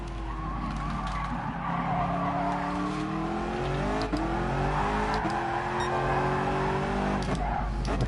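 A race car spinning out in a racing video game, its tires skidding and squealing in long wavering tones over a loud engine note, continuous for several seconds with no talk.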